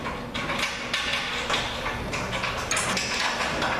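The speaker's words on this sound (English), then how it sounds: "Make sure you hand tighten them with a 3/4 wrench" Metallic ratcheting and clanking of a 3/4 wrench tightening bolts on a STARR boat and pontoon lift frame, a steady run of close, fairly loud mechanical clicks with no talking.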